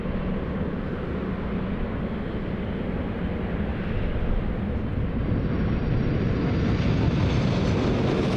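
A Fiji Airways Airbus A330 at Sydney Airport on a windy day, its jet engines a loud, steady roar that swells slightly as it passes, with no talk.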